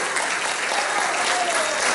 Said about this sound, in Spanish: dar un aplauso fuerte al Señor, dar un aplauso fuerte